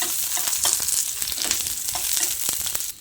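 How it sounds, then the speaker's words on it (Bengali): Dried red chillies, green chilli and chunks of ginger fry in hot oil, giving a steady close crackling sizzle with scattered sharp pops and light stirring scrapes, no voices, until it cuts off near the end. "এবার শুকনো লঙ্কা কাঁচা লঙ্কা আর আদার টুকরোটা দিয়ে কিছুক্ষণ এইভাবে ভেজে নিতে হবে"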